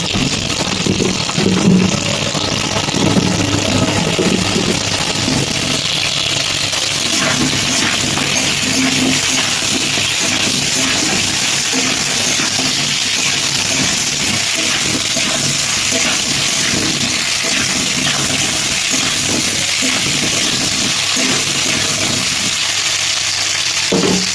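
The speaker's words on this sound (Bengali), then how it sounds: "আলু আর ফুলকপিটা আগে ভেজে নেবো ভালো করে" Potato and cauliflower pieces frying in hot oil, a loud, steady sizzle with bubbling and occasional stirring that carries on throughout at close range.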